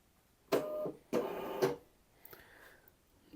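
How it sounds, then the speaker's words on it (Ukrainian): Label printer connected to a Synco PC Box mini-PC prints a barcode label for tomatoes: two short mechanical feed bursts, each about half a second, then a fainter whirring trail, close and alone. "у нас під'єднаний принтер етикеток, то роздрукуємо етикетку для одного з товарів"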